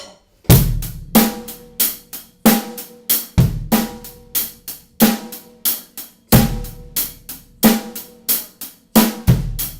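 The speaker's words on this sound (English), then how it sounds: "keep that ostinato up here with our hands or our upper body, and then let the bass drum play" Close, punchy rock drum beat: hi-hat eighths and snare backbeats over a bass drum thumping an irregular pattern, played steadily for about ten seconds.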